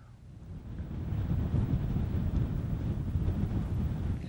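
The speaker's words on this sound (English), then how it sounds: "main engines firing, and we have liftoff of an ILS Proton rocket from the Baikonur Cosmodrome in Kazakhstan" An ILS Proton rocket lifts off from the Baikonur Cosmodrome in Kazakhstan carrying Echostar XIV, its main engines producing a loud, steady, deep roaring rumble that builds slightly and then holds for several seconds.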